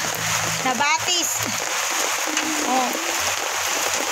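Water from a flooded canal, swollen by typhoon rain, rushes and splashes steadily like a small stream, close and continuous, while voices talk over it.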